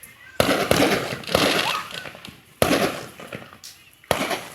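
Fourth of July fireworks burst in a sequence of sharp, loud cracks and crackling blasts, each followed by a fading rumble, with a few seconds between explosions and faint voices in the background.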